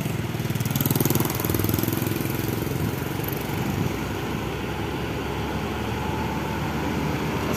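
A bus with a Mercedes engine idles at Kampung Rambutan bus terminal, a loud, close, steady low rumble that swells slightly near the start and then holds even, with no talk.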